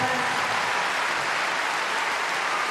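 A crowd in Liverpool at the 2022 World Artistic Gymnastics Championships applauding gymnast Igor Radivilov after a men's vault final, with broad, sustained arena clapping that holds steady at a moderate distance.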